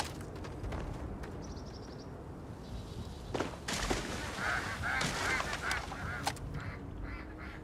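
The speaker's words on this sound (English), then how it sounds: "Sound like fucking ducks." Ducks or geese honk in the Starfield video game, a run of several quick honks in the middle, fairly faint over steady ambient game noise.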